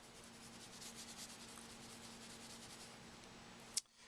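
Metal jewelry is buffed with tissue to remove oxidation, giving a faint, continuous soft rubbing and swishing that pulses with the hand strokes for several seconds, ending with a brief sharp tap.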